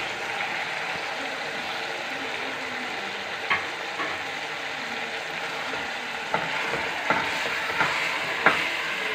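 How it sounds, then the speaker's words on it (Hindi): One kilogram of goat mince frying in a pan for an Eid recipe, a steady loud sizzle with occasional stirring scrapes and clinks, close up, with no talking. "अब 1 किलो कीमा जो हमने बकरे का लिया था इसको हम डालेंगे"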